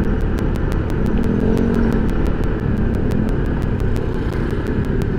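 A motorcycle is ridden along a road near Laurel, Batangas. Its engine holds a loud, steady, close drone throughout, with a faint regular ticking above it and no voices.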